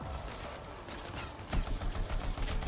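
Automatic weapon gunfire in the video game Anthem, a dense rapid stream of shots growing louder toward the end, close and continuous with no talk.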